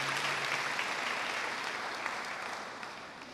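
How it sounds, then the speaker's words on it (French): A congregation applauding at a Sunday worship and praise service, steady clapping from many hands at moderate distance that slowly thins out toward the end. "Sous vos applaudissements,"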